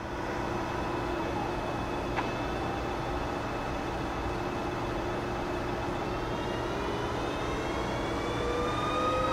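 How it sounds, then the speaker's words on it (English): A transmission running on a tester picks up RPM as a constant mechanical drone, with faint whining tones slowly rising in pitch over the steady hum. "Listen now as it picks up an RPM. It's going to kind of go through a breakup period."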